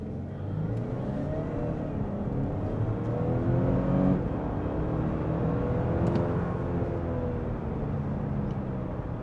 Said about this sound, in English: Let's do another quick acceleration here. We'll just keep it in comfort,